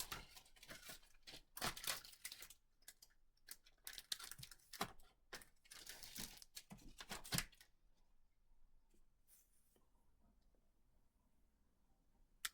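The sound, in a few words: crinkling of packaging while unwrapping a gift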